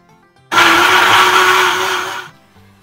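An electric mixer beats sponge cake batter for a Lamington cake in a loud, steady whirring burst of about two seconds, starting and stopping abruptly, with quiet room sound before and after.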